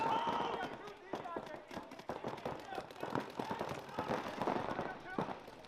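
Paintball markers firing during a match, a rapid scattered popping of many shots under continuous excited commentary.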